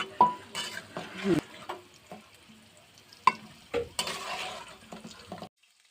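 Papaya chicken curry frying in a pan as a spoon stirs it, with scattered scrapes and clinks of utensil against metal over a faint sizzle, fairly close, falling silent at the end.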